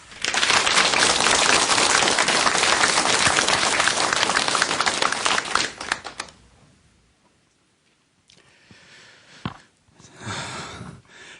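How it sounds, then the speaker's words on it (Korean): An audience claps at the start of a televised health lecture, dense and loud for about six seconds before cutting off abruptly, followed by near-silence and a few faint scattered noises. "박수로 강의 청해 듣겠습니다."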